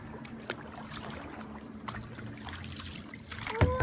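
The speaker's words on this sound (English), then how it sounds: "Left paddle, right paddle, left paddle," Kayak paddle strokes dip and trickle through water, soft and close, with gentle splashes and drips across the stretch and a brief louder burst of activity near the end.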